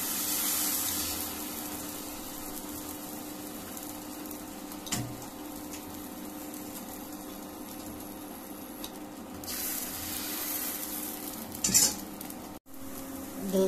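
Rava dosa batter sizzles on a hot griddle pan, a steady soft frying hiss with occasional clinks and scrapes of a utensil, louder at the start and near the end.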